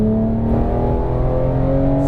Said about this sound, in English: let's floor it all the way